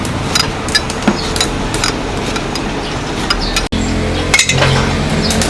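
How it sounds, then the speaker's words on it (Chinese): Knife finely chopping ginger on a cutting board in a kitchen, a steady run of quick, sharp taps close by, with a louder knock partway through and no talking. "切一点姜，这个姜我们要切细一点，小口粒的。"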